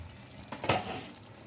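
Potatoes for doi aloo, cooked with peanuts and melon seeds, get a quick stir in a pan on a low flame: one short scrape of the spoon stands out over a faint, steady sizzle.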